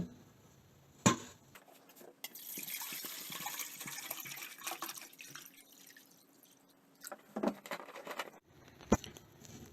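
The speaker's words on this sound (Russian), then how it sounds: "Сейчас налью сюда воды." Water poured into a soldered, repaired metal container, trickling and splashing in bursts with sharp drips, fairly close and moderately loud with no talk.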